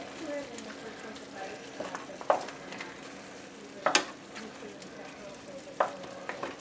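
Rabbit pieces and vegetables get stirred in a frying pan over a low sizzle, with a few sharp utensil clacks against the pan spaced a couple of seconds apart; fairly quiet and close.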